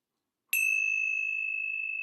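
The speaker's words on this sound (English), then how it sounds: "I'm going to close our time together with the ringing of the bell." A single clear bell is struck once and rings on with a long, steady, sustained tone in an otherwise quiet space.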